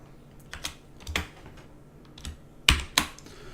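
Short bursts of keystrokes on a computer keyboard, a few quick clicks grouped together with pauses between, close and crisp with no talk.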